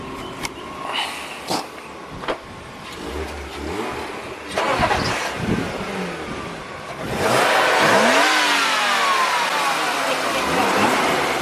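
A Panda E36 car engine on a test drive: scattered knocks and clatter first, then the engine catches and revs up into a steady, loud running drone close to the microphone.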